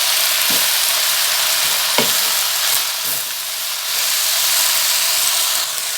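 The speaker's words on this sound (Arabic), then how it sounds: "غادي نزيد كميه اخرى حيت هما غير كيبداو التشحيره كتبدا تشحر فيهم كيبداو يدبالوا" Spinach fries in a large pan with a steady, loud sizzle and hiss, broken by a few soft clicks and stirring knocks, with no voices over it.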